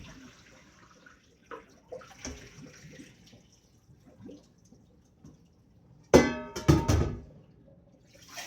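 Water drains in a kitchen sink during food prep: quiet handling noises and faint movement at first, then a loud gush of running water for about a second near the end.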